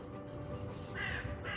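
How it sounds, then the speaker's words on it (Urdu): A few outdoor bird calls sound in the morning air at eight o'clock, brief hoarse caws that stand out over quiet ambient noise. "چڑیوں کے چہچہانے کی آواز بھی آ رہی ہے"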